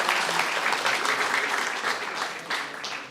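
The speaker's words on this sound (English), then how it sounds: "one final round of applause for the graduating class" Audience applause for a graduating class at a guide dog school graduation ceremony, a dense steady clapping that gradually thins and fades toward the end.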